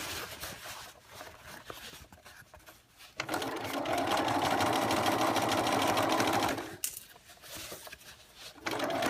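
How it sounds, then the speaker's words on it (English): A sewing machine stitching a contoured waistband onto a garment, running in a steady continuous whir for several seconds between shorter pauses, close and clear with no talk. "And continue to sew all the way around, just like that."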